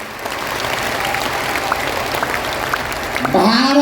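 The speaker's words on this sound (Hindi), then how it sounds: "एक बार जोरदार ताली बजा करके इन कट्टर सनातनियों को धन्यवाद दो।" A crowd claps loudly and steadily at a large religious gathering, dense applause throughout, with a voice breaking in near the end.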